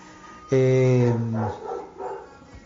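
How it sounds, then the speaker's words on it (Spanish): A dog barks in the background, one loud, drawn-out bark of about a second, followed by fainter voice-like sounds. "Justo está un perro ladrando ahí en el fondo"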